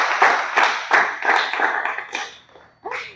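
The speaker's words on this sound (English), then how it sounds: "A round of applause for yourself, please." A room full of guests claps at a gathering, several uneven bursts of hand claps starting and stopping across the moment, fairly close, fading near the end before a last short burst.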